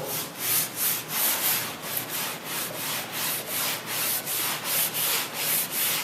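Scrubber working chemical stripper off the wooden bottom of a 1956 Chris Craft Capri boat, a close, loud, rhythmic back-and-forth scratchy rubbing with about two strokes per second, steady and without talk.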